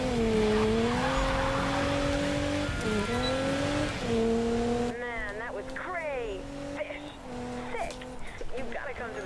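A high-performance car drifts in the Need for Speed 2015 racing game, its engine droning and shifting pitch through sustained revs and changing gears, with tire squeal and a voice talking over the action.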